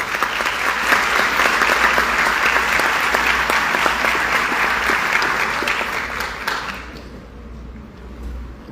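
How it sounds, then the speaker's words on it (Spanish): Audience applause welcoming harpist Walter Molina at a cultural event in San Lorenzo, a loud, full, sustained round of clapping that tapers off and fades out near the end. "Recibimos entonces con ese merecido aplauso al profesor Walter Molina"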